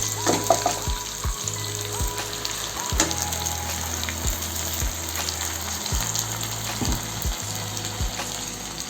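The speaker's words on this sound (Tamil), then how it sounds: "இப்போது இது கூட மூணு தக்காளி அரைச்சி வச்சுருக்கேன் நைஸாக இது கூட சேர்த்துக்கிறேன்" Ground tomatoes sizzle and fry steadily in a pan of okra tamarind curry, with occasional stirring scrapes and clinks over a continuous hiss, close and moderately loud with no talking.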